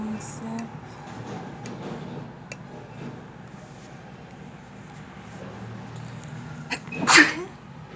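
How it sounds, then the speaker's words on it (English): A single sharp sneeze near the end, loud and close, in a kitchen while potatoes are prepared for frying, following quiet background movement. "I sneezed"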